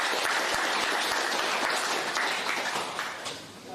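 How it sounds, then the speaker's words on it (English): A crowd at a startup tech talk breaks into a full, continuous round of applause, dense and loud, easing slightly toward the end. "round of applause"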